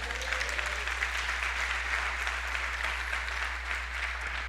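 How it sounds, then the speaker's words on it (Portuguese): A church congregation claps in sustained, even applause that fills the room, with no voices standing out. "dê um forte aplauso a Ele"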